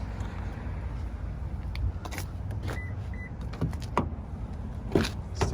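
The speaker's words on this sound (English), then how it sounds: "This one is also equipped with that power tilt slight moonroof." Power tilt-slide moonroof on a 2021 Toyota 4Runner SR5 running, a soft electric motor whir inside the cabin with a few light clicks and thumps as the panel moves.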